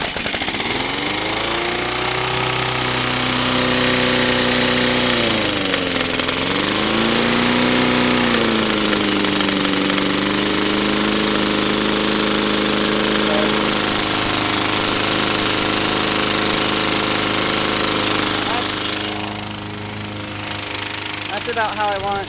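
A small lawnmower engine fitted with a homemade fuel vaporizer rig runs loud and close with a steady rough drone, its pitch dipping and rising briefly as the speed changes before settling into an even idle.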